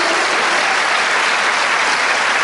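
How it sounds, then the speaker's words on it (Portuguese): A church congregation applauds loudly and continuously, dense clapping filling the room with no talk over it. "Diga um amém e dê um aplauso ao Senhor"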